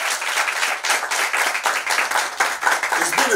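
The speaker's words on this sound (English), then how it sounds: "Once more, clap for them." An audience at a school debate claps together in a dense, even round of applause that keeps going at a steady, fairly loud level, with no talking over it.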